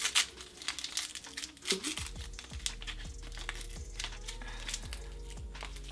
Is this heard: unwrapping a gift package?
yes